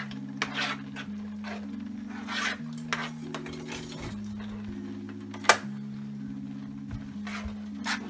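A spoon scrapes and clinks against a pot while ham, tortellini and cream cheese are stirred together, soft intermittent knocks with one sharper clank, close by over quiet background music.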